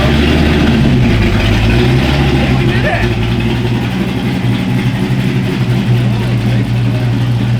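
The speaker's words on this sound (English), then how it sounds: "Oh, the cam sounds nice. Yeah, the cam sounds great." An LS V8 with an aftermarket cam, swapped into a cheap Jaguar, idles with a lumpy, low rumble close by while people cheer and talk excitedly over it.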